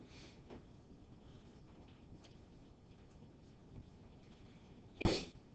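A student in a quiet classroom lets out a single sharp sneeze near the end, rising suddenly above faint room noise.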